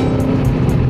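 A Hellcat SRT Charger's engine roars loud and close in fourth gear, a dense, steady drone with no gaps and no talk over it.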